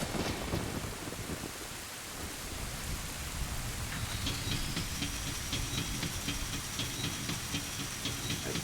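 Steady rain in The Legend of Zelda: Ocarina of Time pours down in a wide, hissing wash, with a faint low rumble beneath and light pattering drops growing clearer after a few seconds.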